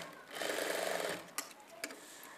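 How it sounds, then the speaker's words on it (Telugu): A sewing machine stitches a dart on a plain straight-cut blouse in one short, close, whirring run. A few light clicks follow as it stops. "ఈ మార్కింగ్ దగ్గరికి ఇలా క్రాస్ గా ఒక స్టిచ్ వేసుకోవాలి"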